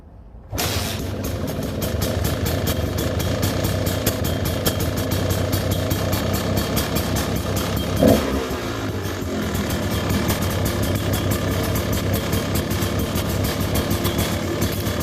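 A 2013 KTM XC-W 200 two-stroke dirt bike kicks into life abruptly and settles into a loud, steady, buzzing idle close by, running continuously with a brief throttle blip partway through and no talk.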